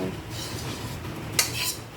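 A frying pan being washed and handled while cooking chicken noodle soup, with light clinks of metal and dishware, a sharper clatter near the middle and soft water and scraping sounds between, no voices.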